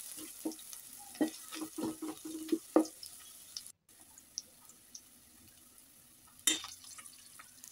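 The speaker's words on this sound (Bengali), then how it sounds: "এখন পেঁয়াজ কুচি দিয়ে দিলাম।" Chopped onion frying in oil in a cooking pot gives a soft, faint sizzle, broken by a few quick metallic stirring clinks and scrapes in the first half and one more near the end.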